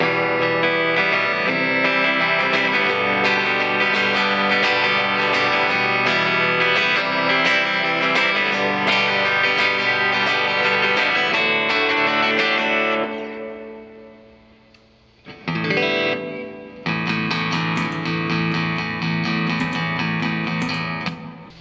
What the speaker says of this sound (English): Compressor pedal, just kind of leaving the reverb on right now.